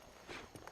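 Hooves of a horse clopping softly in Red Dead Redemption, a few quiet, brief hoofbeats at a walking pace, faint and somewhat distant.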